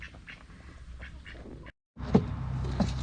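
Cornish Rock meat chickens cluck and squawk close by in short bursts, with a brief silent gap before a louder stretch of calls.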